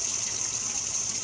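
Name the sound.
water washing out hummingbird feeders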